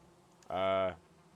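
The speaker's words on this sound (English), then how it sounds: "Oh, I hear bees." Bees buzz in a video game in one short, steady burst of about half a second that starts and stops abruptly over quiet background noise.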